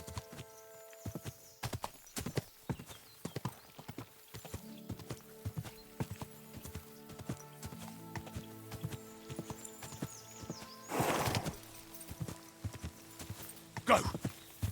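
Horse hooves clip-clop in Kingdom Come: Deliverance II, a steady walking rhythm of distinct hoof strikes, joined by a couple of brief neighs and snorts, with someone talking at times.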